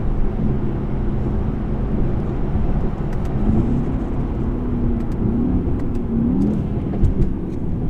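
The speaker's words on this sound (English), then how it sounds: "Get some lovely cracks from the exhaust" A 2019 Mercedes E63S driving along, its engine and exhaust giving a steady, loud rumble heard from inside the car, with a few brief sharp cracks near the end.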